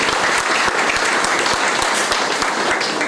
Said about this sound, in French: Donc on peut l'applaudir s'il vous plaît.